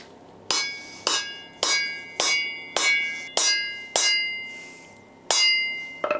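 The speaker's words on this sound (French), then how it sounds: "on prend toujours le gros marteau et l'outil pour mettre les guides" About nine sharp metal-on-metal hammer blows from a heavy hammer driving valve guides into a Ducati 900 SS engine, evenly paced with short gaps, each ringing briefly before fading. Close and loud, with no talking.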